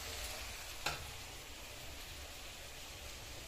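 Chicken curry frying in a pan after chili powder and turmeric are added: a steady soft sizzle throughout, with one brief clink of a utensil early on, close but quiet.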